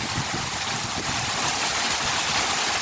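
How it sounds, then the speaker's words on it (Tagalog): Loud, steady rushing noise of strong wind buffeting nearby during heavy rain, continuous and broadband with no voices. "lakas ng hangin."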